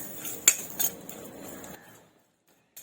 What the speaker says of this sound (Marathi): आपण हे खोबऱ्याचे तुकडे आहेत ते आपण सुकेच असे परतून घेऊया कढईमध्ये